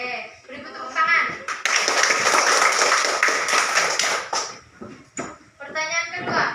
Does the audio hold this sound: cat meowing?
no